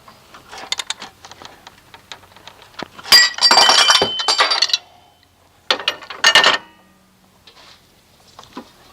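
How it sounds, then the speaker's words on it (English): A puller pops the injection pump sprocket off a 1998 VW Jetta TDI AHU engine, with scattered metallic clicks, then two loud, sharp, close bursts of clanking and rattling as the sprocket comes free. "that was not the tool breaking. That was the pump sprocket coming off"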